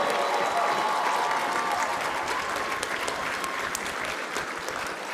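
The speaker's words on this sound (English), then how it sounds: "I think we've got time for one more huge round of applause for this NFB Scholarship" A large banquet audience at the National Federation of the Blind convention gives a sustained, dense round of applause, loud and continuous throughout with no pause.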